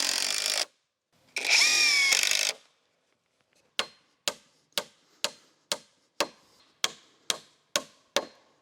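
Joist hanger being installed during shop floor framing: two bursts of a power driver whirring, then a series of about ten sharp, evenly spaced nail-gun shots, close and loud with short decays.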